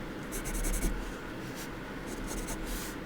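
Pencil marks on paper are rubbed out with quick scrubbing strokes of an eraser, close and soft, in short bursts over a low steady background hum.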